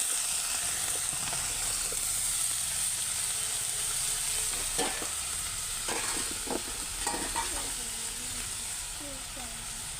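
Sliced onion and green chillies fry in hot oil for a Kerala brinjal stir-fry, giving a steady, close sizzle and hiss with occasional stirring scrapes throughout.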